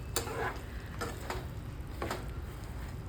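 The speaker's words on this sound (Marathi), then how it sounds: "व्यवस्थित हलवून घ्यायचे" Puffed rice being stirred into hot jaggery syrup in a pan for murmura laddu gives sharp scraping ticks about once a second over a low, steady background hiss, with no talking.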